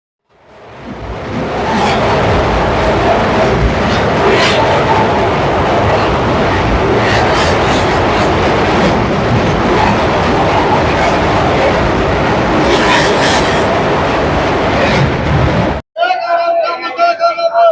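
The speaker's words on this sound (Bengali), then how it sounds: "আমাদের train one two three zero seven Howrah Jodhpur express এসে পৌঁছেছে" The 12307 Howrah–Jodhpur Express rumbles loudly along the tracks with steady rattling and clacking wheels, then the noise cuts off abruptly near the end.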